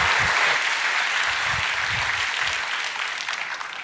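Applause from a church congregation welcoming a pastor, a dense wash of many hands clapping continuously, loud at first and tapering slightly toward the end, with no speech.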